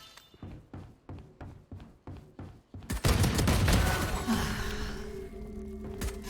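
Classic pistol shots in a shooter video game, about ten evenly spaced sharp pops at a slow pace, followed by a loud rush of noise and a low sustained hum.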